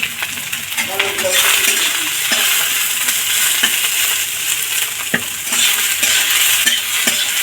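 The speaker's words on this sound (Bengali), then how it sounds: "একটু লাউগুলো ফ্রাই করে নিয়ে নেবো।" Bottle gourd pieces frying in a pan, with a steady loud sizzle and occasional metallic clinks of a spoon stirring and scraping the pan.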